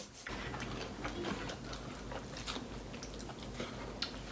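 Someone crunches and chews a soft honey butter snack close up, with steady biting and mouth noises and no talk.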